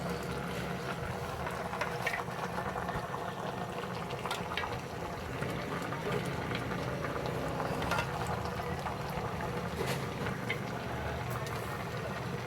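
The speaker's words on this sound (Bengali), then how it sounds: "বলক এসে পড়ছে" A pot of curry with dried fish at a rolling boil, a steady dense bubbling and gurgling that runs evenly and fairly loud throughout, with no talking.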